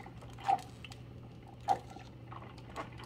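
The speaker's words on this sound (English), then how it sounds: "I'm trying to catch the water coming out." Water drips from an Amazon Basics 12-cup programmable coffee maker with its lid open: two distinct, quiet drops about a second apart over a faint steady hum, then a softer third.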